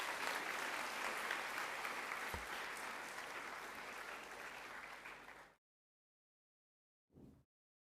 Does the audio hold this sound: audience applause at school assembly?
yes